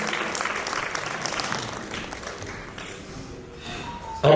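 An audience at a mushaira applauds to welcome a poet, a fairly even wash of clapping that gradually thins out, ending with a sudden brief knock at the very end.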